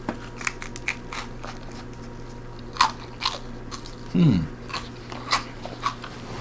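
Several crisp crunching bites into air-fried naan pizza crust, with sharp crackles scattered over a quiet background and one heavier chewing crunch midway.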